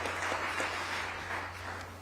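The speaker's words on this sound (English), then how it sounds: "a loud round of applause for yourselves for taking the time out and participating in our first ever conclave" Applause from an audience at a business conference venue, a steady broad wash of clapping that holds evenly for the whole stretch without voices.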